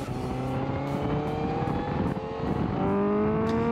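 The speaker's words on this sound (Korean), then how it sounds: "6000rpm을 넘어서면 가변 밸브가 열리면서 엔진 필링과 배기음이 달라집니다" A Honda CBR1000RR-R SP Fireblade's inline-four engine revs high on a race circuit and climbs in pitch, its sound changing above 6000 rpm as a variable valve opens, holding a loud sustained howl, then shifts and rises again.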